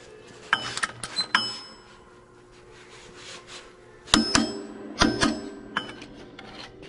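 Wrench ratcheting and tool clinks while torquing the bolts on a high pressure fuel pump of a Cummins ISL engine, with scattered close metallic clicks in short bursts and louder clusters near the end.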